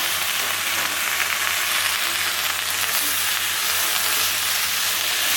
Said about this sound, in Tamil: இப்போ வந்து கருவேப்பிலை இருக்கு இல்லையா, அதையும் 2 பெரட்டு எடுத்துக்கலாம்.